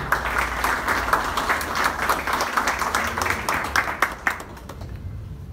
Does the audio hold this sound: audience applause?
yes